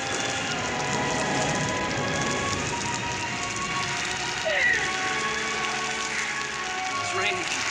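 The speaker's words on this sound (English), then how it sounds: "It's raining." Steady rain patters on surfaces outdoors in a Western drama scene, a continuous even hiss of drops with faint scattered sounds and brief background movement under it.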